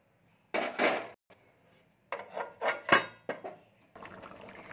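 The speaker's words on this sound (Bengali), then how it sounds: "দিয়ে আমি ঢাকা দিয়ে দেবো এবারে" A metal lid goes onto a cooking pan of fennel and cauliflower: several clattering clanks and scrapes in short bursts, separated by near silence.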